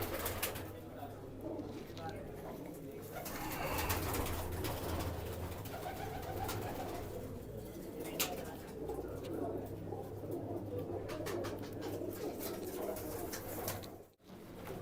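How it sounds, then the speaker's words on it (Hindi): Punjabi pigeons, mostly females, coo softly and repeatedly in a low murmur, with rustling and some background noise and occasional voices around them. "ये सब कबूतरियां हैं।"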